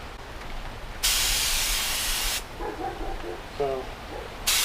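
A paint spray gun spraying primer on a 1975 VW Rabbit interior hisses in two loud bursts, steady broadband spraying with a short pause between, plus faint clanks in the gap.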